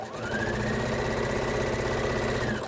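A sewing machine stitches a quilt block at high speed, its motor running in a steady, rapid mechanical whir with a fine rattling pulse that holds evenly throughout, close and alone.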